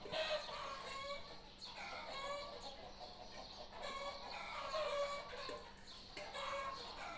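Chickens in a box cluck and squawk continuously at close range, agitated as the box is opened, with overlapping bursts of cackling and no talk.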